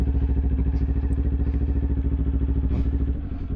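A motorcycle engine idling and chugging at low revs as the bike maneuvers slowly on a rear brake during practice, a steady close throb that eases slightly near the end, with no talk.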